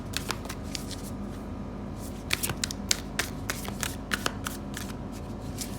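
Tarot cards are shuffled close by in quiet bursts of soft riffling and flicking, with sharper snaps at irregular intervals.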